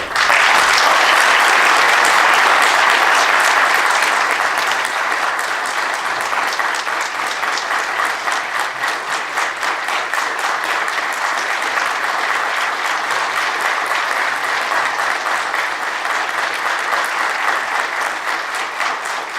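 A large audience at a Toronto rally for Iranian protesters applauds steadily for a welcomed speaker, loud sustained clapping that fades slightly but continues throughout.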